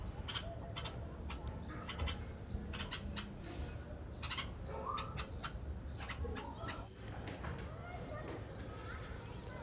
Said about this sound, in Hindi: लंच के टाइम भी बहुत सारी चिड़िया कौए सब आ जाते हैं